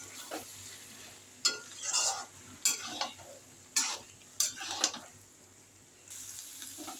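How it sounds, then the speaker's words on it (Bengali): Lote fish and potatoes are stirred in a frying pan: a quiet sizzle runs throughout, broken by a series of loud scraping strokes and metallic clanks of the spatula at uneven intervals. "এবারে আলুর সাথে আমি ভালো করে নেড়ে নেব।"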